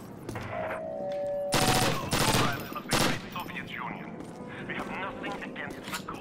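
Rapid automatic gunfire in the video game Call of Duty comes in loud dense bursts, then gives way to quieter scattered shots and mechanical clatter while someone talks over it.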